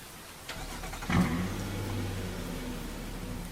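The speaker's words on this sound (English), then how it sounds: "I want to start my car without being in it" A car engine in the Roblox game Rensselaer County, started remotely with no one inside, catching after a soft click and settling into a steady low idle rumble.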